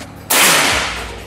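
A single sharp, loud report from an SR 500 Tactical air rifle firing its first shot, a sudden blast after a quiet moment that fades out over about a second.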